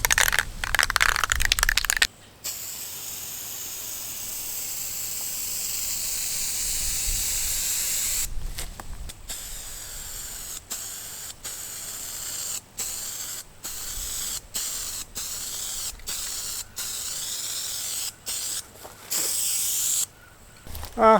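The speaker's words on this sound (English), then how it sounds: "I'm gonna try to spray paint it just to make it easier" A steady, loud spray-paint hiss over door jambs in a mobile home runs almost continuously, broken by short pauses and quick bursts as the nozzle is released and pressed again.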